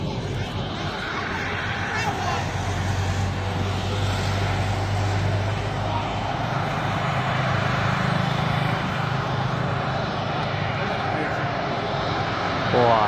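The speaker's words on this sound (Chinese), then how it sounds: "这是沙特的波音787， 海航的330又过来了。" A Saudi Boeing 787 and a Hainan Airlines A330 taxi past on an airport curve, a deep rumbling jet drone with a low hum that swells and shifts as they roll by fairly close, with a voice talking over it.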